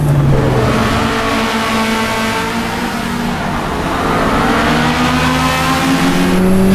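A 1990s four-wheel-drive Cosworth race car in Assetto Corsa EVO holds a loud, steady engine roar throughout, its pitch sliding down and then climbing again as the revs change.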